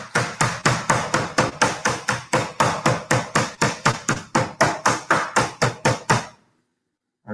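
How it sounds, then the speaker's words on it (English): A meat hammer pounding pork flat for schnitzel in a kitchen, about two dozen sharp, loud, evenly spaced blows in a fast steady rhythm, close and alone, stopping abruptly near the end. "It's very, very difficult to talk over the hammering of the pork."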